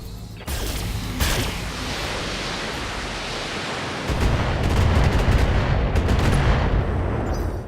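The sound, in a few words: mech weapons firing in BattleTech video game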